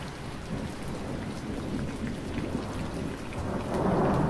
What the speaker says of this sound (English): Yeah, we're in some kind of thunderstorm here.